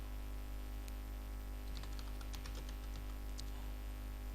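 A business name being typed on a computer keyboard, a short burst of light key clicks, close and quiet, over a low steady hum.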